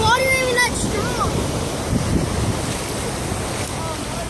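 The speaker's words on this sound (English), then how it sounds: "Guys, it's flooding even more." Floodwater rushes around a flooded bridge in a loud, steady roar with gusty wind noise. Brief voices are heard near the start.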